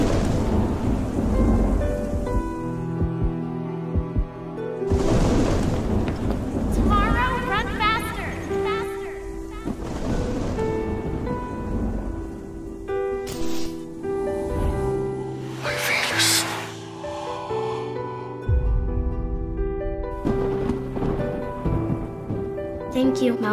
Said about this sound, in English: Storm is coming.